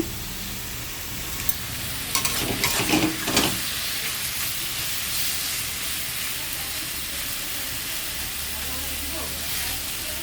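Boiled taro greens with crushed garlic fry in a pan, a steady close hiss and sizzle throughout, with a short burst of stirring clatter near the start and a voice talking over it.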